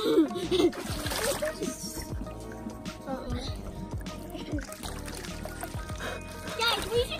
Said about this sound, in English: Go splashing the cameraman.